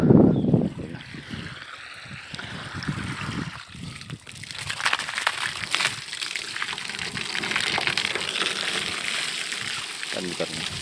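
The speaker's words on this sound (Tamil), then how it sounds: "மற்றபடிக்கு கரெக்டாக தான் வரும் தண்ணி." Water gushes from a solar-powered 600 W BLDC motor pump, a continuous splashing flow with some sloshing variation, heard close while someone talks over it.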